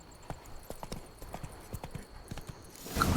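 Horse hooves clip-clop in The Witcher 3, an uneven run of close, crisp hoof strikes at a walking pace, ending in a louder burst of noise.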